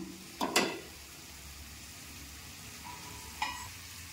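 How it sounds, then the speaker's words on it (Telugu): Tamarind juice poured into a crab curry cooking in a pan, a short splash and stir near the start, then a faint steady simmer with another brief clink later. "చింతపండు పులుపు యాడ్ చేస్తున్నానండి."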